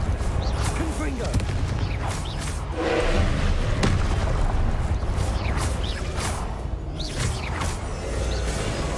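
Confringo blast spell in Hogwarts Legacy, a series of booming, whooshing impacts and thuds amid game effects, with a person talking over parts of it.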